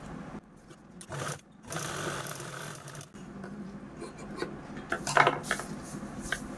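A sewing machine stitches fabric piping on a cloth glasses stand, running in short bursts with pauses and handling clatter between them.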